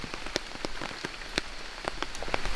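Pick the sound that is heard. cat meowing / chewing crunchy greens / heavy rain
heavy rain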